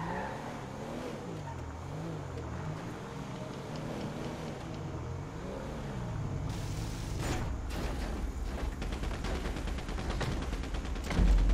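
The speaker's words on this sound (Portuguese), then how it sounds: "Esse barulho de tiro aí" Gunfire in the video game GTA 5 comes as a burst of rapid, loud, sharp shots toward the end, following a car engine that revs and wavers steadily through the first half.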